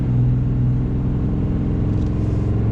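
A RAM 3500 Cummins diesel truck towing 30,000 lbs up a steep, snowy hill, a loud, steady low engine drone and rumble heard from inside the cab.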